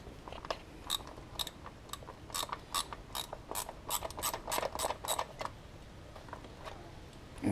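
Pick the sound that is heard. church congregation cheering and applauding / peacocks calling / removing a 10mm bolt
removing a 10mm bolt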